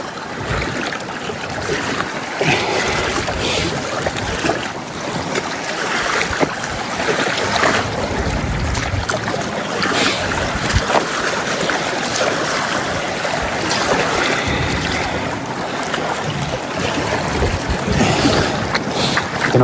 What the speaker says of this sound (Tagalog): Ay, medyo lumakas yung hangin ngayong hapon